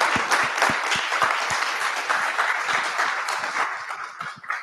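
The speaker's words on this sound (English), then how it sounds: "Everybody give her a big round of applause." An audience at a 1 Million Cups startup pitch event in Little Rock gives steady, dense applause with sharp individual claps throughout, fading slightly at the end.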